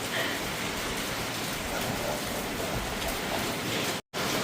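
Steady rain falls in a constant, dense hiss of drops close by, heavy and even across the span with one very brief dropout near the end, and no talking.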